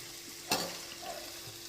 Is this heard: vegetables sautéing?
yes